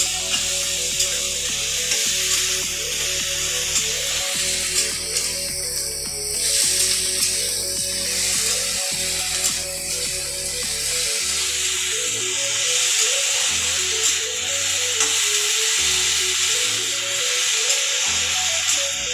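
Saag stirred in a hot frying pan sizzles and hisses steadily, with scraping stir sounds close by over background music, no talking.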